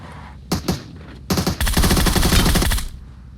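Gunfire in the PUBG Mobile video game: a couple of short bursts followed by a sustained rapid automatic volley, loud and close, with no talking over it.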